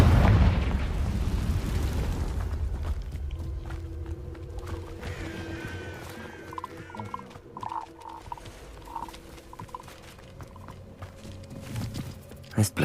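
A Confringo fire-blast spell in Hogwarts Legacy opens with a loud booming burst. Crackling debris and softer magical tones follow, with a voice heard over the scene.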